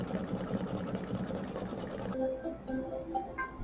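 Computerized embroidery machine stitching a hooped design, a close, steady rapid mechanical whirr and needle patter that stops about two seconds in, followed by quieter clicks and faint handling sounds.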